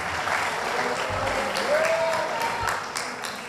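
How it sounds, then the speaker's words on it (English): An audience applauds the debaters at the final of a debating competition, a steady wash of clapping that holds for about three seconds before fading slightly at the end. "let's give them a round of applause"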